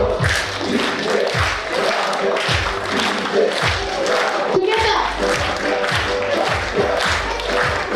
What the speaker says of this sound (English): Clapping should be there.